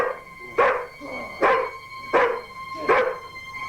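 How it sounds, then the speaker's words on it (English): A dog barks four times in a steady, evenly spaced run, each bark loud and close, with quieter background sound in the pauses between them. "And will you control that bloody dog?"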